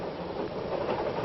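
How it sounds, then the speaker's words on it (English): A train rattles along in a radio drama sound effect, a steady muffled rumble and clatter of railroad cars heard alone for a brief moment. "The train hadn't been lurching enough to throw him against me"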